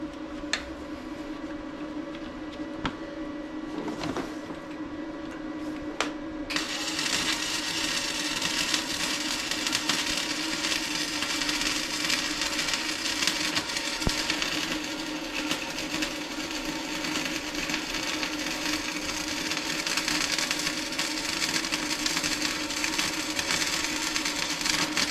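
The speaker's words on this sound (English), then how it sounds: "So I'm about to weld another one," Welding a bracket on a 1995 Jeep YJ: a steady, close, continuous crackling hiss with a constant hum beneath, growing louder and brighter after a few seconds and holding without a break.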